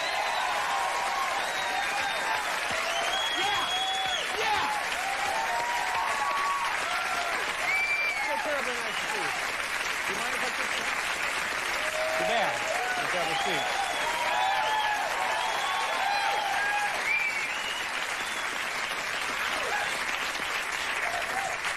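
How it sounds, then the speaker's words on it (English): Dense, sustained applause and cheering from a studio audience greeting a guest on a Christmas television special, steady and loud throughout with a crowd roar underneath. "You show up and the crowd goes crazy."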